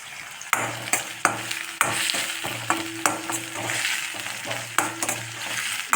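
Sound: sautéing curry leaves in a pan

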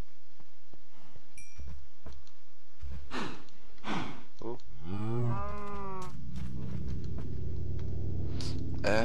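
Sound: cows mooing while being fed hay

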